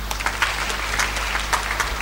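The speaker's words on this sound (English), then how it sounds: "round of applause." A small audience at a church teaching session claps briefly, scattered distinct hand claps over a steady low hum in the room.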